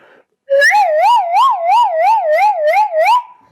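A flute, a bansuri fitted with a saxophone head, imitates an ambulance siren: a loud, close wavering wail that swoops up and down about eight times, then breaks off.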